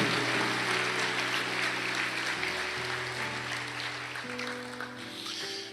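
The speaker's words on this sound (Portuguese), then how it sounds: "Glória a Deus, dá uma salva de palmas." A church congregation applauds in a steady, dense wash of clapping, with sustained keyboard or organ tones running underneath throughout.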